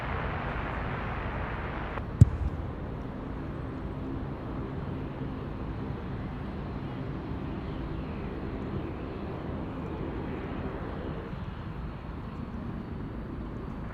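A jet airliner on final approach to runway 34 left at Sydney Airport at night, a steady broadband engine roar holding throughout at moderate distance, with a brief sharp click near the start.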